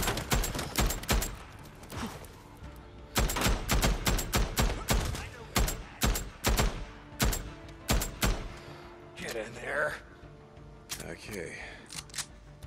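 Sniper gunfire in Days Gone, a dense series of sharp loud shots in rapid irregular volleys, then a few scattered bangs and rustling movement toward the end.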